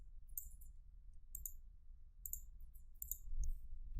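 Sharp, sparse clicks of a computer mouse while sketching in SolidWorks CAD software, a few single and double clicks close up over quiet low room hum.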